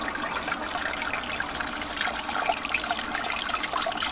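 Water trickles and gushes steadily at low flow through a gold recovery trap and discharges into a tailings bucket, a continuous close splashing with no talk.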